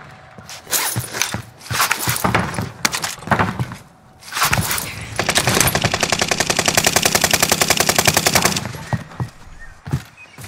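Rapid automatic gunfire in Call of Duty: Modern Warfare, with scattered single shots first, then a long, loud, steady burst of closely spaced rounds that cuts off abruptly.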